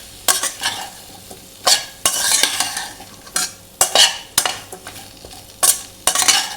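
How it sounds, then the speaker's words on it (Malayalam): A spoon stirring a green mango side dish in a hot pan, with repeated scraping strokes in an uneven rhythm over a faint steady sizzle, close and fairly loud, with no voices. "2 മിനിറ്റായി നമ്മളിതുപോലെ ഇളക്കുന്നു."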